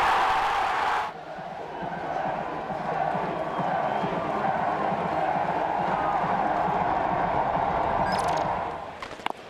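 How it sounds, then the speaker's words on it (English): A baseball stadium crowd at Louisville vs Oregon State roars and chants a player's name, a loud sustained wash of many voices that swells and holds for several seconds, with a brief clap or knock near the end. "the whole crowd chanting your name"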